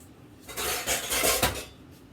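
A rubber scraper working around a mixing bowl of chocolate cream pie filling, giving a steady close scraping and clinking that rises for about a second, with no talking.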